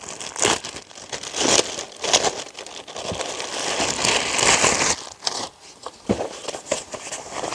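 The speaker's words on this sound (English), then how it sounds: "We'll go ahead and open up this smaller box, or smaller bag." Crinkly plastic or nylon of a small storage duffel bag for a camping sleeping mattress being handled and opened, with close, loud bursts of rustling and crumpling that stop and start with short pauses.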